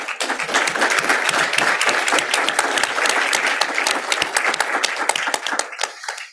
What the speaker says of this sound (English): can we please give a round of applause to the panelists?